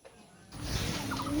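Noisy outdoor duck calls, brief honking and quacking cries over a steady rumble of wind and background noise, in a grassy field where cattle and goats graze on a rainy day.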